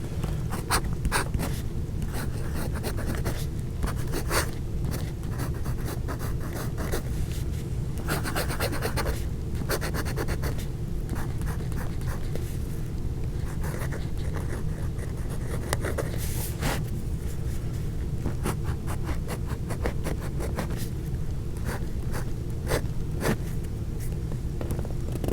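A Fude nib fountain pen scratches across paper in a long run of close, quiet strokes, soft rasping rubs and taps with brief pauses, over a faint steady background hum.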